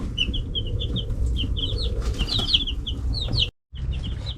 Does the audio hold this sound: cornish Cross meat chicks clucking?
yes